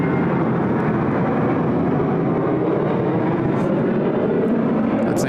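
Velocity flight 909, an airliner departing Sydney Airport for Brisbane, produces a continuous loud, broad jet roar that holds steady throughout.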